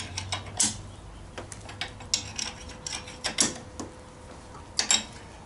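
A bench vise is cranked tight with a long wrench, giving close metallic creaks, clicks and ratcheting clunks at an uneven pace, with a few sharper knocks toward the end.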